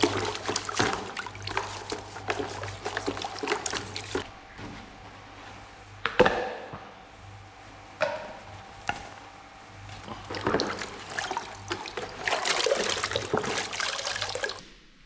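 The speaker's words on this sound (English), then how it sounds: "Good opportunity to give that main cluster head a good wash as well now" Water spraying and splashing over a motorcycle engine's main cluster head during a wash in a workshop, steady rushing flow with pauses and louder bursts, no talking.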